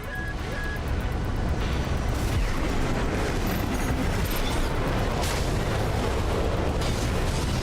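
Mega artillery barrage in Armored Core VI, a loud, dense and continuous roar of overlapping explosions and booms pounding without pause throughout.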